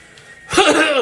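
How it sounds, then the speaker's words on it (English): A baseball game broadcaster clears his throat close to the microphone, a short rough rasp after a moment of near silence. "Excuse me, clear my throat."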